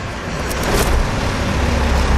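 Truck engine starts during an air brake demonstration in Manitoba, Canada, a loud rumbling roar that swells and holds steady after starting.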